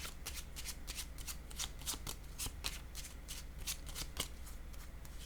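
Tarot cards being shuffled by hand, a continuous papery riffle of rapid flicks and soft slaps lasting several seconds, close and fairly quiet, with no one talking.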